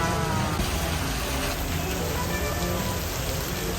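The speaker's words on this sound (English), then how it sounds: "And it's raining." Steady rain pours down on a street in Hanoi in autumn, a dense, even hiss of drops that stays loud and unbroken throughout with no pauses.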